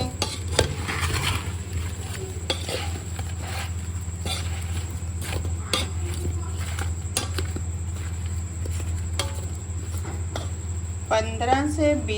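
Raw mango pickle mixed by hand for a Punjabi-style kachay aam achar, with soft scraping and stirring sounds under a constant low hum and scattered light clinks.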